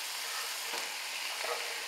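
Garlic sautéing in a pan for a vegetarian gluten-free lasagna gives a steady, close hiss of sizzling oil with faint stirring scrapes. Nobody talks.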